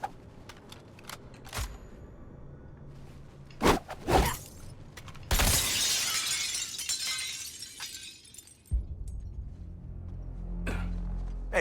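Glass shatters in the video game Suicide Squad: Kill the Justice League, a loud sustained crash and tinkle of shards among sharp impacts and game noise.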